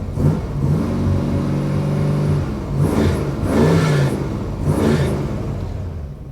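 Dodge V8 engine with a fault runs after a cold start, a loud close rumbling idle broken by several throaty revs that rise and fall in quick bursts.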